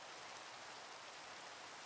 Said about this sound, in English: this rain's annoying.